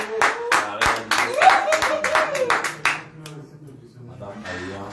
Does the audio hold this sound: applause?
yes